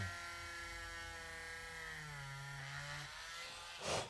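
A Dremel rotary tool cuts into plastic on a toy figure with a steady high whine whose pitch sags slightly under load, then a short scraping burst at the end.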